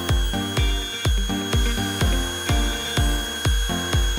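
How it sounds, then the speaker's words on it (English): A router fitted with a rounding bit works the edges of a wooden stool in a woodshop, giving repeated whining bursts that rise and decay about twice a second, loud and close, with no talk. "I'm gonna use a rounding bit."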